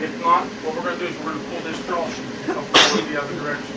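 One short, sharp sneeze bursts out mid-sentence as a voice explains moving a patient on a draw sheet during a nursing skills lab session.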